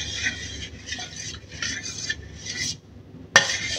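Galapong rice batter for bibingka being stirred in a bowl, a steady scraping and rubbing in several strokes with short pauses, ending in a sharp clack of the utensil.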